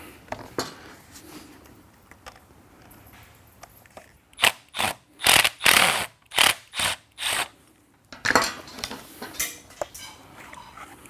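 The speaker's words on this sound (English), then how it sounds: "Just dropping screws all over the place." Screws dropped while a SunJoe pressure washer is taken apart, a quick run of sharp metallic clinks and rattles, loud and close, after quieter handling noises with no talking.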